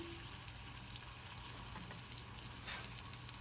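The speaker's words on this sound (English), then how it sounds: "grilling in butter." A taco tortilla sizzling in butter on a grill for shrimp tacos gives a steady, close, bright frying hiss with no talk over it.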